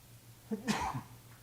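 A single short sneeze bursts out faintly in a quiet meeting room during a county commissioners' workshop, a quick sharp burst over low background hum.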